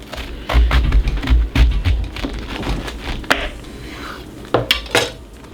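A kitchen knife cuts a vegetable in half on a cutting board, giving loud, close knocks and clatter followed by a few sharp taps, with no talk.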